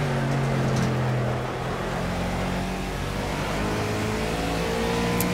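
A Ford Fusion NASCAR stock car engine drones loudly at Watkins Glen in the racing game Project CARS, a sustained steady roar with a slight dip in pitch partway through.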